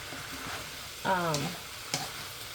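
Chicken, broccoli and other vegetables stir-frying in a pan make a soft, steady sizzle with a couple of stirring clinks, while a voice briefly rises over it midway.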